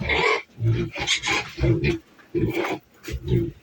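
A two-month-old piglet squeals and grunts in harsh, rasping bursts while being given an injection, several loud cries in quick succession, close by.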